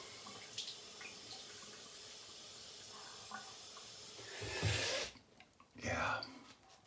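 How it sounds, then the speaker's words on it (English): Tap water runs steadily into a sink with a soft hiss while someone wets their face before a shave, and louder splashing comes near the end as hands scoop water up. "Just wetting the face a bit."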